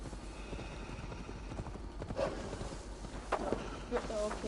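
Horse hooves clopping in a Viking-era video game, a quick run of hoofbeats under background game sound, followed by a short neigh and snorting from the mount, fairly close and moderately loud.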